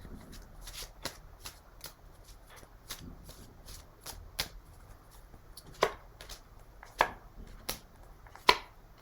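Tarot cards being shuffled by hand nearby, with a steady run of crisp riffling slaps and several sharper snaps toward the end, and no voice.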